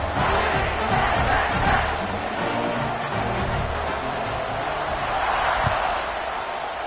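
Stadium crowd noise in a college football video game, a steady dense roar of many voices with swells of cheering before a kickoff, loud and continuous throughout.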